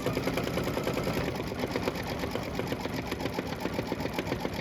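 Embroidery machine stitching the gas pump lower panel accent on a pickup truck quilt block, a steady rapid mechanical chatter of needle strokes running continuously at moderate distance, no voices.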